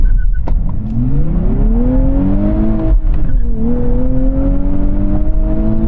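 A sports car launches hard in a drag race, its engine close and loud, revving up with a rising note, briefly dipping at a gear change, then climbing again.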